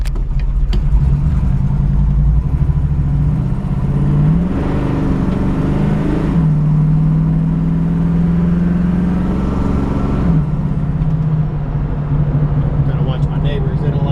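A 1972 Chevrolet Camaro engine drones close by, then surges as kickdown drops a gear and the revs climb and hold before settling back, with a voice talking over the steady roar.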